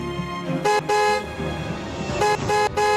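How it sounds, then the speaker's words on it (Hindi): A car horn honks in two distinct bursts, each a pair of loud tonal blasts, sounding close over a low background rumble with no talking. "उसने अपनी गाड़ी का हॉर्न बजाया"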